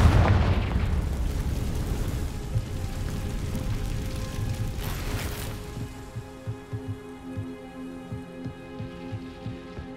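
A Confringo spell explosion in Hogwarts Legacy, a loud booming burst at the start that rumbles and decays into crackling debris and scattered pops, with no voices over it.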